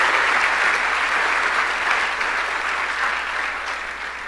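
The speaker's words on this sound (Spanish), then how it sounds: "Dale un aplauso al Señor hoy" Loud, sustained applause from a church congregation at a Sunday service, dense steady clapping that fades slightly toward the end.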